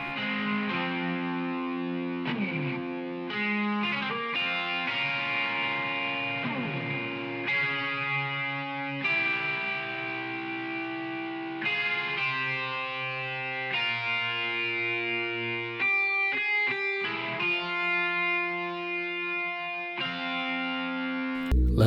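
Distorted electric guitar playing sustained chords and riffs with a roomy reverb tail, steady and fairly loud throughout, no voices.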